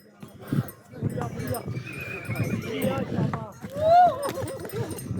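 A mare walks along a mountain trail near Ganga Choti in Sudhan Gali, Bagh, Azad Kashmir. Soft hoof steps and a short whinny sound up close while voices talk over them.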